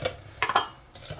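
A 1.3 litre metal cooking pot is set down into a wood gas stove, giving a few short metallic clunks and scrapes close by, with quiet pauses between them.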